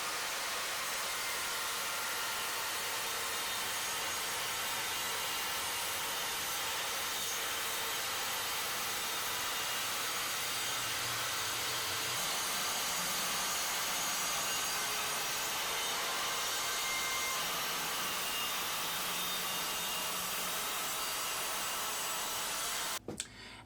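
A saw cutting through a sheet of 18mm plywood, a continuous steady broadband whir held for over twenty seconds, close and even with no talk, ending abruptly.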